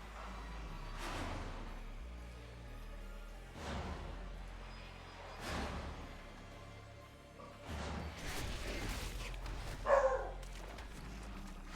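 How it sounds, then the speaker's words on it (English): A dog barks a few times off in the distance, each bark a faint, separate burst spread across quiet room sound. "What is my dog barking?"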